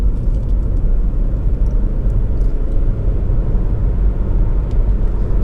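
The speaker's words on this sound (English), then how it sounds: "Let's just spin around here, and then I'll give the brakes a bit of a shove." A Lexus CT 200h 1.8 F Sport hatchback with a CVT drives and turns a corner, giving a loud, steady low road and engine rumble from inside the cabin with no break.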